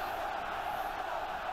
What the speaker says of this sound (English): I can hear the crowd going mental